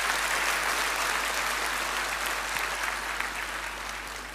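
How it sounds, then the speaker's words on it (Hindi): Steady applause from the audience at the CSC Women VLE Conference, a uniform wash of clapping hands that holds evenly and fades slightly toward the end, with no voices over it. "उनके लिए ताली बजाइए आप लोग"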